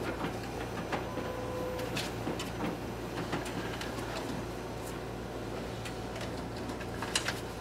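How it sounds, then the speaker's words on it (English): A Xerox WorkCentre 7125 copier's document feeder pulls pages through, giving a steady mechanical whir with a low hum and regular ticks and clicks as each sheet passes, at moderate volume with no talk. "as you can see, the document feeder is working properly"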